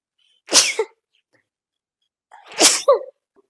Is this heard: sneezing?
yes